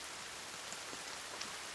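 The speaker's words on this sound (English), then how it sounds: "as you can see, it's raining now," Rain falling in the survival video game The Forest, a steady, soft hiss of drops spread evenly throughout, with a few faint individual splashes and no voices.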